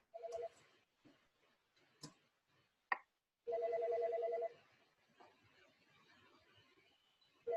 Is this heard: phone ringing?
yes